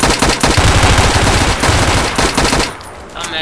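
Rapid automatic gunfire rattles through a video game shootout with police, loud and close, in dense continuous bursts that ease off only at the very end.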